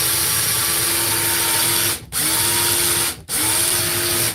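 A battery-powered tool whirs steadily with a worn, noisy bearing, a continuous gritty whine that briefly cuts out twice before spinning back up.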